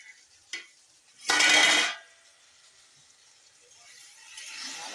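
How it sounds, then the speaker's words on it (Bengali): Beans sizzle and are stirred in a pan, a couple of sharp scraping bursts of utensil against metal standing out over a quiet background, then a soft rising sizzle. "ভালোভাবে এটাকে কষিয়ে নেব যত সময় পর্যন্ত আমার শিমটা সেদ্ধ হয়নি"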